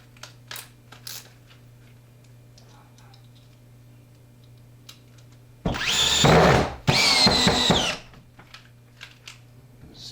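A Dewalt drill/driver drives 3.5-inch deck screws in two loud, close whirring bursts of about a second each, separated by a short pause, after some quiet clicks and handling noise over a low steady hum.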